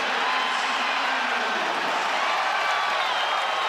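Dense, loud cheering and applause from a college wrestling arena crowd at a dual meet, a steady wall of noise with no pauses.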